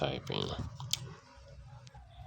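Light typing taps on a keyboard while entering a search term in a design app, scattered soft clicks beneath a voice that talks over the first half.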